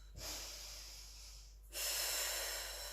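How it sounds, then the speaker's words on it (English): A slow, close breath during a yogalates exercise: a soft inhale of about a second and a half, then a louder, airy exhale, with no talking. "Continue with your inhales and exhales."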